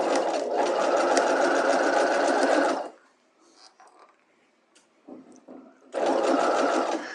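A sewing machine stitches a dart in fabric, running in a loud, steady close-up burst for almost three seconds, then going quiet with light handling noises before a second run starts.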